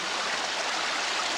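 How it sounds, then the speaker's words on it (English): Water rinsing out a small vial of gold into a bucket, a brief steady rushing splash heard up close with no break. "Rinse it out."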